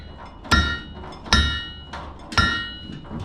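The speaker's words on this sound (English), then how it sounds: "This is my homemade treadle hammer." A homemade treadle hammer striking in a blacksmith's shop, three sharp heavy metallic blows at uneven intervals with ringing decay and softer knocks between, close and loud.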